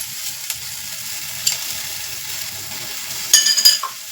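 Cumin seeds and chopped dry coconut sizzle gently in a pan, a soft steady hiss with a few light clinks of a utensil near the end, nearby and without speech.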